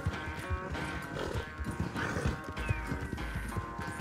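A horse galloping in Red Dead Redemption 2, rapid rhythmic hoofbeats thudding steadily under continuous game ambience, with no speech over them.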